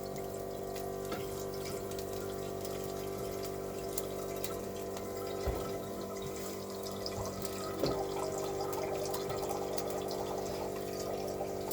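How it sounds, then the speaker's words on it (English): A kitchen faucet runs water into a pot for cooking noodles, a steady filling stream with a faint hum underneath and a couple of brief clunks, moderately quiet and without voices. "I'm gonna use my little handy dandy faucet over here and put some water in here so I can cook up some noodles"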